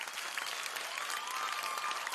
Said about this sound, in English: I think we can give them a louder round of applause.